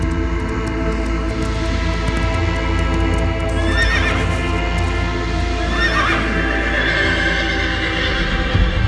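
Horse neighing and whinnying repeatedly over a loud, constant galloping rumble with hoof clip-clop, a dense movie sound effect with no speech.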